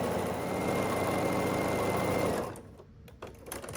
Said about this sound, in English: Okay, I just finished sewing on the 4th strip.